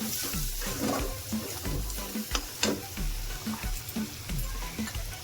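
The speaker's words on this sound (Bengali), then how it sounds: "আবারও মশলাটা একটু নাড়াচাড়া করে নিচ্ছি।" Ground turmeric, coriander and cumin being stirred in a hot pan for a cabbage kofta curry, with soft sizzling and repeated scraping strokes of the spoon at an uneven rhythm, close up.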